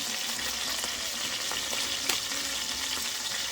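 Chicken pieces browning in a pan for white chicken chili give off a soft, even sizzle with a few faint clicks, fairly quiet and steady throughout, no talking.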